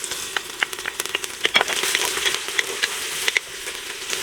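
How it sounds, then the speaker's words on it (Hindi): Crushed garlic sizzles in hot oil with browned onions for beef nihari, a loud close crackle and fry with scattered sharp pops and the scrape of stirring, no talking. "इस पॉइंट पे हम आंच को हल्का करेंगे और इसके अंदर क्रश किया हुआ लहसुन डाल देंगे"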